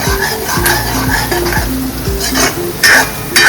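Onions frying in a spiced oil tempering for batata poha, with a steady sizzle under repeated metallic scrapes and clinks of a spoon stirring in the pan. The clinks are close and irregular, and no one speaks.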